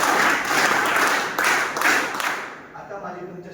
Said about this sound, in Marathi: मला वेगळं टाळ्या वाजवा सगळ्यांनी साठी.